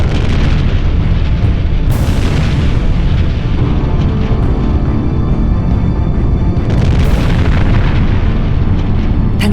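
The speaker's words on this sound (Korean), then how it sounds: "굉음과 함께 베수비오 화산이 폭발한 것이다." Mount Vesuvius erupts in a loud, continuous roaring rumble, with heavy booming surges swelling twice over the sustained blast.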